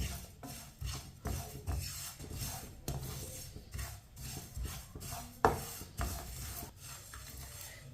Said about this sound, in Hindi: इसी तरह इसे चम्मच चलाते हुए भूने।